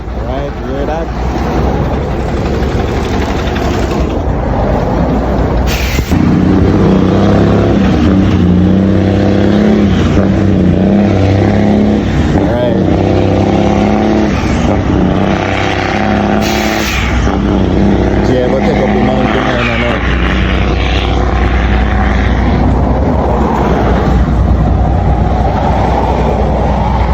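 A Detroit Diesel engine in an International truck climbing a hill roars loudly and steadily, with a deep rumbling drone that continues throughout and voices faintly underneath.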